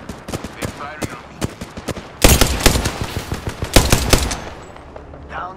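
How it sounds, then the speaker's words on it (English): Rapid bursts of automatic gunfire ring out in the battle royale game Apex Legends. Dense rattling volleys grow louder and heavier toward the middle, and a player talks over the shooting. "They're firing on me."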